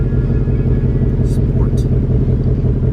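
A Ford Mustang GT idles in its suppressed normal exhaust mode, a steady, deep, pulsing rumble that stays close and even throughout.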